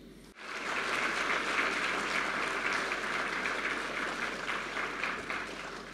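A large convention crowd claps steadily and loudly, sustained applause filling the space for several seconds without letting up.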